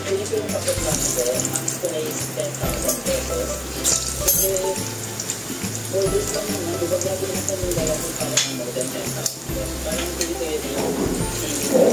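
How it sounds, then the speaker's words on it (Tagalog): Saba bananas fry in hot oil in a pan with a steady loud sizzle and crackle throughout, while people talk over the cooking. "Mainit na yung mantika. Lagay na natin yung saba."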